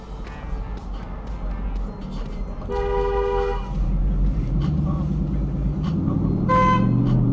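A car horn honks in traffic, a couple of short blasts over steady engine and road noise, with a brief high tone near the end.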